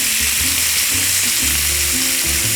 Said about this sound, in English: we want to cook these, stirring very, very frequently